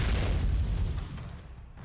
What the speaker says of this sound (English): Snow White's gunfire melds with artillery fire from off in the distance.